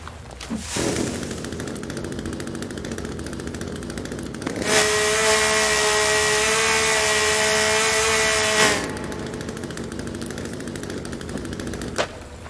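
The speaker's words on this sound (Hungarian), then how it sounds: "Láncfűrész hozzáadva." A chainsaw in the PC survival game The Forest revs in one loud, steady buzzing run of about four seconds, rising out of continuous game ambience and then cutting off.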